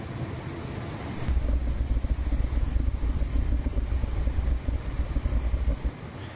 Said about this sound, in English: It kind of sounds like a Harley, like a motorbike, like a Harley Davidson or something that's just like on idle.